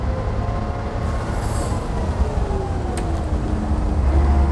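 A Leyland National bus engine drones and rumbles loudly on the road, with rising and falling whine as it pulls through gear changes and road noise underneath.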